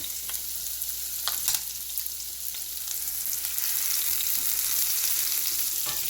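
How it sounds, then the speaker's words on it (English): Onions sauté in a pan with a continuous airy sizzle that swells slightly over time, a couple of faint clicks early on, and no talking. "So I'm going to saute the onions a little bit."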